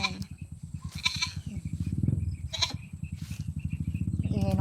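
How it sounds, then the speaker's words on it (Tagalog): Goats bleat on a farm in Santa Cruz, Occidental Mindoro, with several loud, close, wavering cries following one another over low rural background noise. "Ingay ng kambing"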